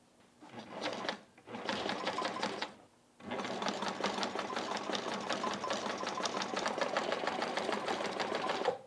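Sewing machine stitching waxed canvas for a backpack, two short bursts of rapid mechanical needle chatter, a brief pause, then one long continuous run of stitching, close and steady.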